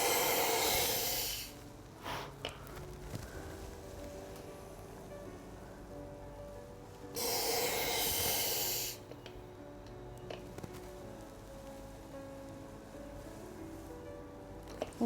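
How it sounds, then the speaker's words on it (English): Slow, deep breathing in and out during relaxation for labour pain relief, with two long loud exhalations spaced several seconds apart and quiet held breaths between them. "Hold it for a second or two and breathe out."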